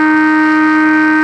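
A loud, steady electronic siren ending an Australian football match holds at a constant pitch throughout, with no voices over it.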